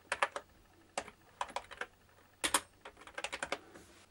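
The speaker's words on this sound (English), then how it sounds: "We can just type hello world." Keys clatter on a Sinclair QL computer keyboard as a short line is typed in a word processor, coming in quick irregular bursts of close, crisp clicks with brief pauses between them.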